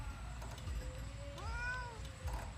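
A house cat gives one rising-and-falling meow midway through, fairly faint and close, over a low background rumble.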